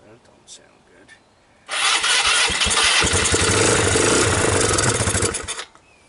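A worn Polaris Phoenix ATV engine cranks and catches into a loud, rough, sputtering run for about four seconds, then cuts out, with quieter shuffling and handling noises before it.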